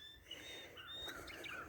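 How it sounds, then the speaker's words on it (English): A northern hummingbird chirping outdoors near a garden, faint high-pitched tweets scattered over a quiet background in a brief moment. "You can hear the northern hummingbird is chirping."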